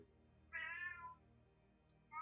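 A cat meows indoors: one clear, drawn-out meow, then the start of a second, fairly faint, over a quiet background.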